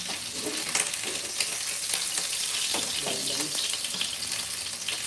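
Garlic and onion sizzle and crackle steadily in hot olive oil while a pork kaldereta is cooked. The frying is close and continuous, with scraping stir strokes and a brief murmur of talk.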